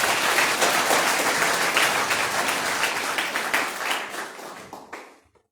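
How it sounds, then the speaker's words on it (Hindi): Loud applause from a school gathering for the team, dense and sustained, then tapering off and fading to silence at the end. "जोरदार तालियां एक बार।"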